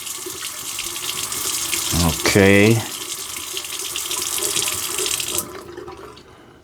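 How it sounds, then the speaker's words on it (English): Water pours steadily from a newly installed bathroom faucet into a sink, a loud continuous splash that stops near the end, with a person speaking briefly. "Let's run that now."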